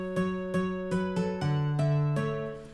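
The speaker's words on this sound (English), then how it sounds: "I got guitar rig here and I'm basically running a Nexus 2 preset that sounds like this." A Nexus 2 synth preset routed through Guitar Rig amp processing plays a short run of plucked chords, seven distinct notes with bright attacks and ringing tails, the last ones held longer; close and clear with no talking.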